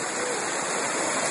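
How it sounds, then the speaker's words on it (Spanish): River water rushing steadily near a hidden waterfall at El Bolsón, a dense, continuous roar that fills the whole moment without a break. "Cruzando el río."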